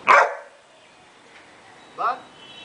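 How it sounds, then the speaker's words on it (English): A Great Dane barks on command: one loud, deep bark at the start, a long pause, then a second shorter bark near the end, with a voice giving commands in between. "Bark."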